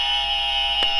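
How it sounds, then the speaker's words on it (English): Quiz buzzer at a real estate trivia game, a loud sustained electronic tone holding steady for about a second with a brief click near the end. "You've got the right buzzer, Charles."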